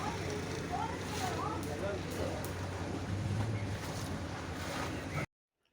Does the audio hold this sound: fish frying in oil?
no